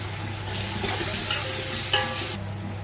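Half a kilo of tomatoes stirred into fried onions in a large pan for Ambur mutton biryani, a thick, close sizzle with scraping and stirring strokes over a low steady hum that quietens near the end, no talk.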